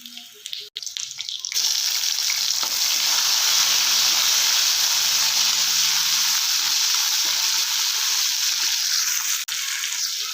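Tomato goes into okra (lady finger) palya frying in a pan, North Karnataka style, and after a brief quiet start a loud, steady, hissing sizzle takes over and holds, with faint stirring scrapes.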